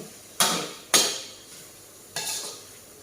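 Glass noodles and vegetables being stir-fried for Thai dry suki, with three sharp scrapes and clatters of a spatula against the pan, each fading quickly, close and fairly loud with quiet gaps between.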